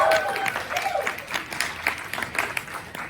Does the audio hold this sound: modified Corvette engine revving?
no